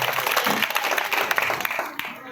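Audience applause at a school annual function: a brief burst of dense clapping from a crowd, loud and close, with a voice faintly underneath.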